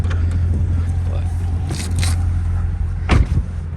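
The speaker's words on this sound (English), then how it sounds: "that's the car" A blue-and-white Chevrolet Corvette C7 on a cold winter day, its engine holding a steady low idle rumble close by with a brief louder swell near the end, while light speech sits over it.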